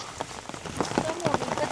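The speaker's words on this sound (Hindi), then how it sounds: "हम भयानक बारिश में काफ़ी देर इंतज़ार किए कि शायद रुक जाएगी बारिश" Heavy rain falls steadily during a Himalayan trek toward Everest, a dense patter of drops on surfaces with someone talking over it close by.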